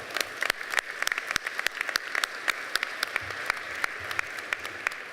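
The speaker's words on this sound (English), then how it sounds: "Let's give the Cook Foundation a round of applause." A round of applause for the Cook Foundation at an annual meeting honoring scholarship students: sparse, individually distinct claps scattered across the room, fairly quiet and uneven rather than a dense roar.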